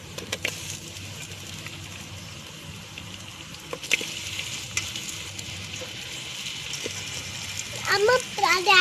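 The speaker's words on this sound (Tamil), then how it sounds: "2 பச்சை வெங்காயம், 2 கிராம்பு, பிரியாணி இலை இதெல்லாம் போட்டு வதக்குறோம்." Onions, cloves and bay leaf sautéing in a pan for a country chicken fry, a low steady sizzle with occasional stirring scrapes and clinks, growing louder near the end.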